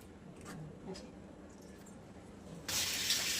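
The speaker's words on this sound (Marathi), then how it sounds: "मी थोडंसं पाणी टाकले त्याच्यात" Quiet kitchen clatter with a voice, then water suddenly pours in a steady splashing stream into a pan of sprouted moth bean curry near the end.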